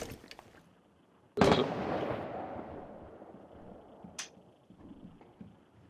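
A single grenade blast in Rainbow Six Siege, one sudden boom with a long rumbling decay, followed by a sharp brief crack a few seconds later, moderately loud over quiet game ambience.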